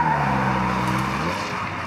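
A Spyder car engine revs at a farm. It holds a loud, steady, buzzing drone that drops slightly in pitch toward the end, with no talking.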